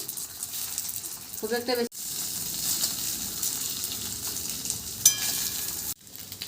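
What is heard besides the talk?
frying in ghee with black cumin in a wok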